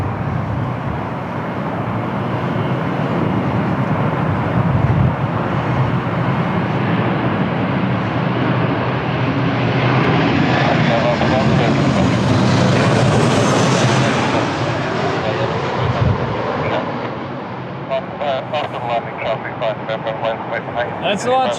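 A Ryanair airliner at Lisbon Airport on a windy day, a loud sustained jet roar that swells and then fades, with voices heard faintly over the engine noise.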